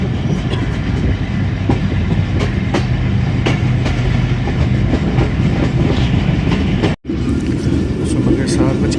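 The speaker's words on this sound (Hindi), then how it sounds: "सुबह के 7:40 हो रहे हैं और मुरीद के रेलवे स्टेशन से स्लो स्पीड में पास हो रही है हमारी ट्रेन" A railcar train rolls slowly through Muridke railway station on the Lahore to Rawalpindi line, with a loud, steady onboard rumble, rhythmic clickety-clack from the wheels and voices faintly underneath.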